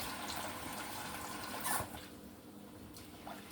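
Tap water runs steadily into a bowl of rice being rinsed at a kitchen sink, a soft continuous wash with a brief louder splash midway, faint and close.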